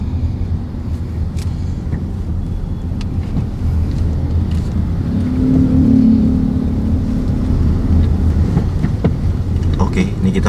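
Steady low road rumble fills the cabin of a Toyota Innova cruising at 40 km/h on an ordinary road, a continuous drone that swells slightly midway, with faint voices underneath.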